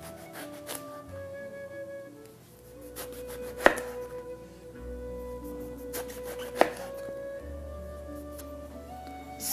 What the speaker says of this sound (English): I will cut the stem out and slice each eggplant into about 1 inch thick